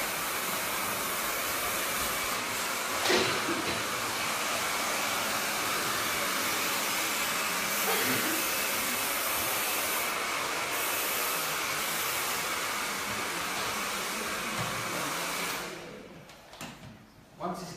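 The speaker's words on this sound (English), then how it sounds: "what you do with the hairdryer, you spray it into the hair" A hair dryer blows into short layered hair with a steady, loud whooshing hum that runs almost the whole time, then cuts off near the end amid a few soft thumps.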